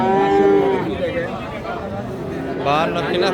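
Friesian heifer calves and other cattle mooing at the Raniganj cattle market in Dinajpur: long, drawn-out moos sound close and loud, with another call near the end, all amid market chatter and voices.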